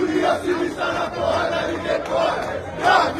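Botafogo's Fúria Jovem football supporters chant together as a loud, dense crowd, their voices rising and falling in a steady rhythmic swell with no break.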